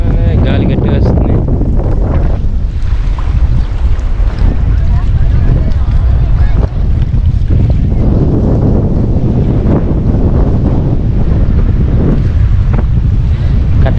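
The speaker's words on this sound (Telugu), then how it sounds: "గాలి గట్టిగా వస్తుంది." Strong wind gusts across the mic beside a fishing pond, a loud, constant rumbling buffet that fills the whole stretch and never lets up.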